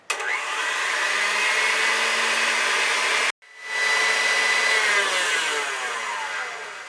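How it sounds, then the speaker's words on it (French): A stand mixer whips cream in its bowl for an almond sponge with white chocolate cream and strawberries, giving a loud, steady motor whir that cuts out briefly midway and then resumes, with no talking. "Je mets la cuve au batteur. Voilà. Et je vais faire monter la crème."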